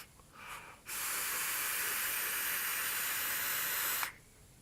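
A strong airy hiss of vapour being drawn through a Hellvape Dead Rabbit RTA with the airflow fully open at raised power, one long steady pull lasting about three seconds after a faint breath.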